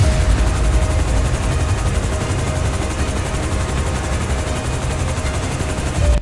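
A helicopter flies in GTA 5 Online, its rotor and engine a loud, steady, dense drone with a faint rapid beat running throughout and no pauses.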